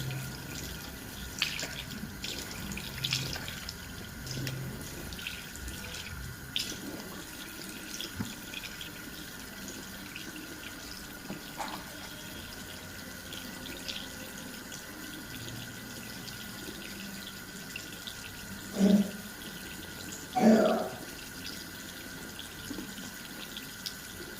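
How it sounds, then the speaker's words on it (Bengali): Tap water runs steadily and faintly into a bathroom sink while a face is washed with soap, with a couple of louder splashes near the end. "আমি সেই ডাব সাবান দিয়ে মুখটা ধুচ্ছি, ক্লিন করতেছি"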